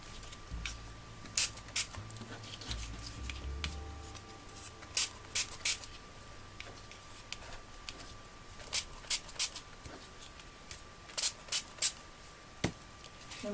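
Liquid squirted from a spray bottle onto thin, easily torn paper, heard as short, sharp bursts in clusters of two or three, near and distinct against a quiet background with a steady faint hum.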